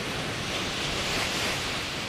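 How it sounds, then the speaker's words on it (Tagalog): Ocean surf rolling onto Bacuag Beach, a continuous broad roar of breaking waves close by and fairly loud, with some wind buffeting the microphone and no talking. "Malapit lang kami sa dagat."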